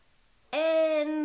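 A loud, unspayed female cat lets out a single sustained, strongly tonal meow that starts abruptly after a short quiet stretch and holds for nearly a second, close to the microphone.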